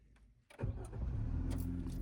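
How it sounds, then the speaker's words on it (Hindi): A Maruti Fronx car's engine starts after a quiet moment, a brief cranking burst settling at once into a steady, close idle rumble. "पहले इग्निशन ऑन होता है, फिर अब इंजन स्टार्ट करो।"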